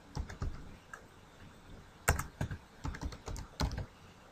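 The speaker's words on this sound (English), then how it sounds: "I like to type in the location or the URL of where that file resides" A URL is typed into a browser on a computer keyboard, a close run of quick, uneven key clicks in short bursts with brief pauses between them.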